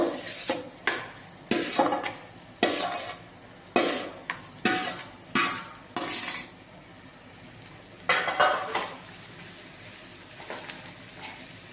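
Spoon scraping and knocking in a pan while stirring boiled potatoes into a masala dosa filling, a series of irregular scraping strokes with short pauses and a light sizzle underneath, close and fairly quiet.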